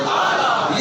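Large crowd chanting religious slogans in unison at a gathering honoring a Pakistani pir, a dense continuous roar of many voices, loud and steady throughout the short moment.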